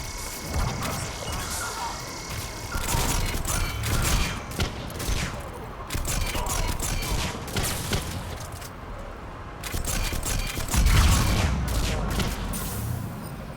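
Shock launcher weapon in the shooter Mass Effect 3, rapid bursts of sharp electric shots and impacts in uneven volleys with mechanical clatter between them, loud and close, nobody talking.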